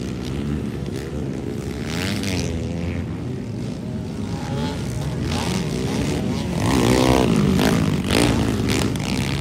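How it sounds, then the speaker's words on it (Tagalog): Racing motorcycles on a track, engines whining and rising in pitch as they rev past, forming a continuous loud roar that swells toward the end. "Grabe, bakbakan na yung ilang mga motor."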